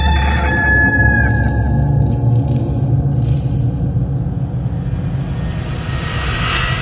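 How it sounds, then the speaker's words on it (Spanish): A rooster crows briefly and clearly near the start, then a steady low engine-like rumble continues on its own. "Y donde cantaba el primer gallo."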